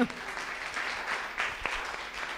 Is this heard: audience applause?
yes